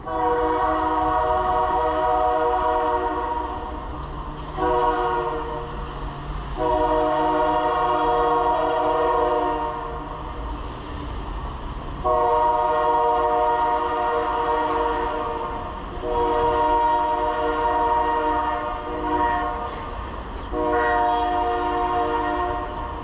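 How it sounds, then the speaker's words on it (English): A train passes nearby at 3 o'clock, its horn sounding in long sustained blasts that repeat in several bursts over steady rumbling rail and wheel noise, with no talking. "Here comes my train."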